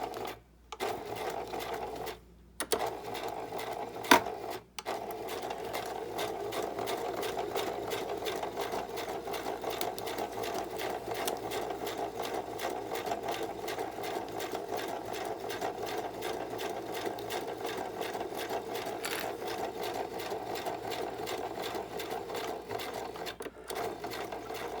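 Sewing machine stitching paper for an ephemera folio, a fast steady mechanical whir with rapid needle clatter, close and continuous, with a few brief pauses near the start.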